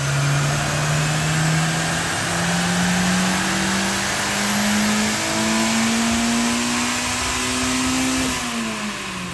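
A Honda S2000 engine revs on a dyno, its note climbing steadily in pitch as it pulls through the gears, loud and close, then cutting off sharply near the end.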